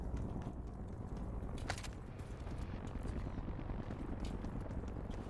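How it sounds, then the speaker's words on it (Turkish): Helicopter flying in the Call of Duty Warzone video game, a steady rotor drone that runs without a break under the rest of the in-game sound. "Helikopter uçuyor ya."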